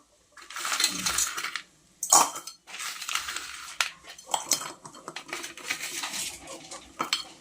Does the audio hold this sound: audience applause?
no